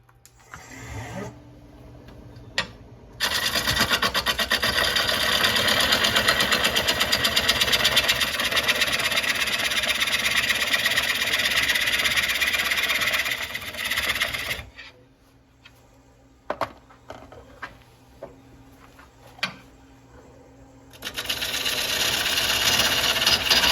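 An Ego 18-inch electric chainsaw cuts into a 21-inch box elder log, a loud continuous whining buzz that holds for about ten seconds, then stops, followed by brief clunks and a second burst of cutting at the end.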